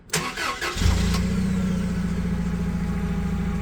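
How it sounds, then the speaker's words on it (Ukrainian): A new 2022 Toyota 02-8FGL25 gas/petrol forklift engine cranks briefly, catches, and settles into a steady, loud idle nearby. "Запускаємо."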